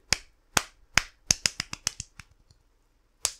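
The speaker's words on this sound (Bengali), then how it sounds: "জোরে সোরে একটা তালি হবে" A single person clapping by hand: sharp, dry claps, first three slow and evenly spaced, then a quicker run that fades into softer taps, a pause, and one final loud clap.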